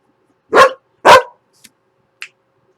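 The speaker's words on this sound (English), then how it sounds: "Forgive my puppy dog." A puppy gives two sharp, loud barks close by in a quiet indoor room, followed by a couple of faint clicks.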